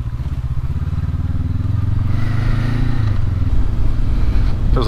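A 2019 Honda CB500X motorcycle ridden through mud on a gravel back road in Oregon, its engine a steady loud drone that builds slightly in revs midway, with wind rumble and faint clatter throughout, no talking.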